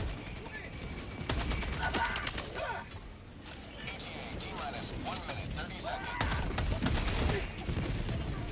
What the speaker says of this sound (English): That's not a good spot for a Gatling